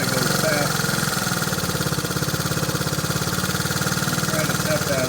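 A 1969 Honda CT90 motorcycle engine idles with a steady rapid putter, close and loud, after its idle screw has been adjusted; the rhythm stays fairly even throughout.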